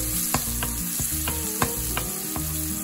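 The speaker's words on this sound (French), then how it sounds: "Ajoutez l'ail et les poireaux. Remuez pendant environ une minute." Garlic and leeks sizzle steadily in hot oil in a pan, with sharp utensil scrapes and taps from stirring every fraction of a second, close and clear with no talking.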